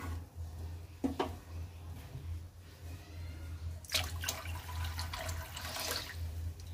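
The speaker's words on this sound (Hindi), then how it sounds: "इसलिए मुझे थोड़ा पानी और डालना पड़ेगा।" Water pours into a pan of pakoda curry gravy with a splashing, gurgling rush, after a brief clatter earlier on, over a low steady hum from the kitchen.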